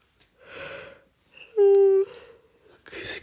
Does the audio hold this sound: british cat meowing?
no